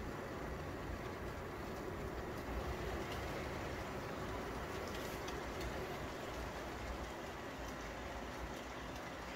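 HO scale Boston & Maine model train rumbling steadily as it runs into a six-loop helix on a home layout, a continuous even rolling drone with no voices.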